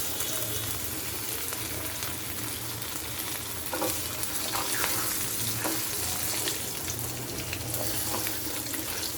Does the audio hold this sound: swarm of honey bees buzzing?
no